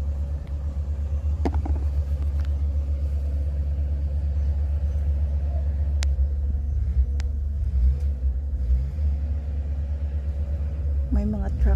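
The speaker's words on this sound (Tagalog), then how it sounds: "May mga truck dito ngayon" Heavy trucks rumbling close by a garden in Croatia, a continuous low engine drone with a few brief knocks and clanks from nearby work, steady throughout.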